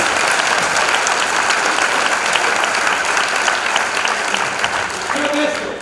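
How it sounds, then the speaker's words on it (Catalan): Sustained applause from a theatre audience fills the stretch, dense and even, fading slightly at the end as a voice begins to speak. "El jurat pot aplaudir"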